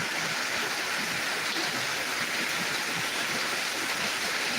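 Torrential rain in Dinajpur pours down in a dense, unbroken roar, loud and close, like rushing water, with no voices over it.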